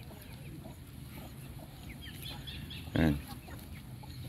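Farm poultry, chickens, ducks and turkeys foraging in a field, give soft scattered clucks and chirps over a steady outdoor hum, with one louder squawk and a brief word spoken nearby.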